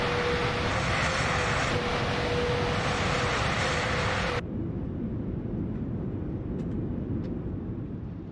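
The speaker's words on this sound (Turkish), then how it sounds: "Şimdi uçağımızın kendisini durdurmasını bekliyorum." An airliner rolls out and decelerates on the runway after touchdown in Microsoft Flight Simulator, a heavy steady engine and rumble roar that abruptly drops in intensity midway, then continues as a quieter fading drone.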